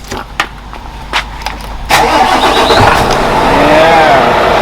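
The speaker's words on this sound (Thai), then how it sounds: "เดี๋ยวสตาร์ทให้ฟังเสียงเครื่องนะ" A 2014–2015 FUSO 240 hp dump truck diesel engine cranks and catches after a few light clicks, then settles into a steady, close, loud idle rumble.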